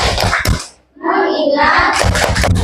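A classroom of children performs a rhythmic clapping chant, sharp hand claps landing in time with their chanting voices, loud and close.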